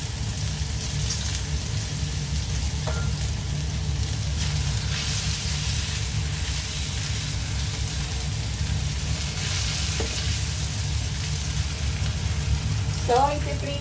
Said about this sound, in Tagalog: So, magigisa tayo ng ating bawang. Then, maglalagay tayo ng luya.